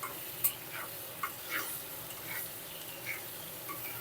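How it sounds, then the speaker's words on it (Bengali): Potato pieces fry in a pan with salt and turmeric powder, giving a faint, soft sizzle broken by scattered light ticks and stirring clicks. "এই লবণ আর হলুদ গুঁড়ো দিয়ে আলুটা ভালো করে লাল লাল করে ভেজে নেব"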